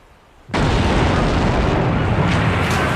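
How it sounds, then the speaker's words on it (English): A huge blast as the battleship USS Maine explodes in Havana Harbor in 1898: a sudden loud boom that cuts in after brief quiet and then roars on steadily. "the battleship USS Maine exploded in Havana Harbor"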